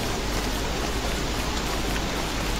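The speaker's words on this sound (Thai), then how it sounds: "ฝนแม่งก็ตก" Steady rain pours in the video game Don't Starve, a dense, even hiss of falling water that fills the scene without pause and with no voices over it.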